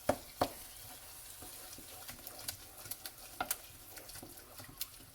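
Oil and butter are stirred together in a pot, giving a faint, quiet sizzle with light scattered taps and patters from the spoon and no talking.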